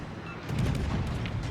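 Naval gun volleys from a warship in a naval combat video game, a deep booming roar that swells halfway through and rumbles on heavily until the end.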